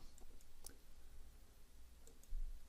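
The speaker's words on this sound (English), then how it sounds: "Select all. Right click," Computer mouse clicks during a right-click and copy, a few faint sharp ticks spaced apart over quiet room noise.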